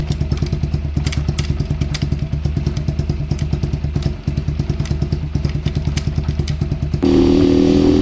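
An X-pro Storm 150 DLX motorcycle ridden from desert toward the mountains: a close, steady, rapidly pulsing single-cylinder putter with clattery thumps, shifting tone near the end.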